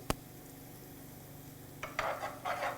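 Ginger and shallot go into a hot pan on medium heat and crackle faintly, with a sharp knock at the start and then bursts of frying sizzle near the end as they are stirred.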